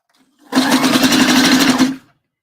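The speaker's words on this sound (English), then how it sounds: "I'll take the needle out, pull the pin out, and do a quick little back stitch." A sewing machine runs a quick back stitch while a bra is being made, a single loud burst of rapid needle strokes about a second and a half long that starts and stops abruptly in near silence.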